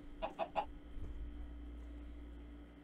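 A Minecraft chicken gives three quick, short clucks close by, followed by quiet game ambience.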